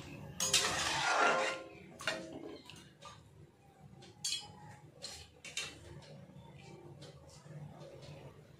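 Salt and turmeric are stirred into a pan of jackfruit and prawn curry, giving quiet scraping and light metallic clinks, a brief louder rustle at the start, then sparse, soft taps.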